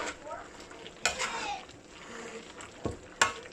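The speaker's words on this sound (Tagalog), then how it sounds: "Haluin natin ulit." Dinuguan, a pork blood stew, stirred in a pot: a spoon scrapes and swirls through the simmering stew with soft sizzling, and sharper clanks against the pot rim land near the one-second and three-second marks.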